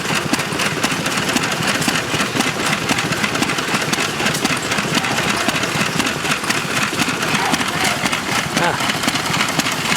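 A vintage Ronaldson Tippett stationary engine runs at an engine display, a steady close rhythmic chugging with even beats throughout.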